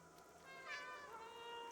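A cat meows inside the video game Stray, one clear, fairly quiet, drawn-out meow rising in the middle and fading over the steady game ambience, with no talking.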